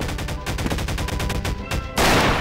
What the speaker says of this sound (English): You guys are using automatic weapons